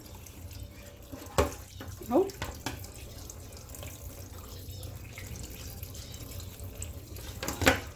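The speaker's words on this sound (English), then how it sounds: "we're just going to give these a good rinse in here with some fresh water" Steady running tap water splashes into a sink, with a few sharper knocks and clatters as black beans are rinsed; a brief voice is heard.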